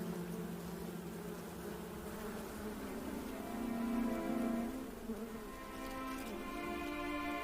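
A nectar bee flies in an animated nature story, its buzzing steady and close, swelling slightly midway before settling back, with no voices.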